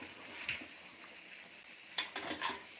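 Sukka chicken cooking in a pressure cooker on a gas stove makes a steady, close sizzling hiss, with a few scraping stirs and light metallic clinks near the end.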